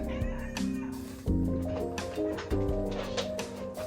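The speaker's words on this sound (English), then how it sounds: "Such a fucking needy cat" A cat meows a few times over a busy backdrop of music-like tones and sharp clicks, the meows fairly close and insistent.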